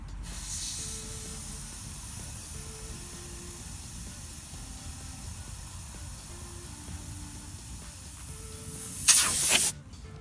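Compressed air hisses steadily into a Porsche 924S fuel tank under pressure, a soft continuous rush with faint scattered knocks, then a loud, close burst of escaping air about a second long near the end.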